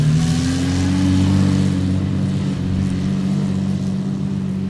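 A Lamborghini Aventador Ultimae V12 rumbles loud and close through its twin exhausts, a steady deep idle with a slight swell of revs near the start, no talk over it.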